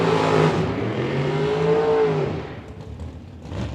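A bracket racing car at a drag race revs hard with a strong, harmonic engine roar, pitch climbing then easing as the throttle is worked, fairly close and loud before fading briefly and surging again.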